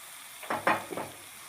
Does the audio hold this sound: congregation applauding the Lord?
no